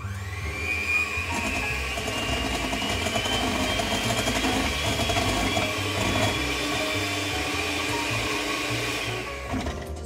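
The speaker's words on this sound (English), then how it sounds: "So it takes about, I think about 3 minutes to do it with the hand mixer." A hand mixer whips cream for hot chocolate floats, a steady close-up motor whir with a rattling beater texture that runs unbroken for about nine seconds, then cuts off near the end, with no talking.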